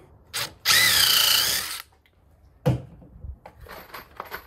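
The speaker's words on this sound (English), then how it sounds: "And then I'm going to go back and get a pilot hole for the screw." Power drill boring a pilot hole for a two-inch exterior screw while building a whiskey barrel bar: one loud, close whirring burst lasting about a second, followed by clunks and light handling noises.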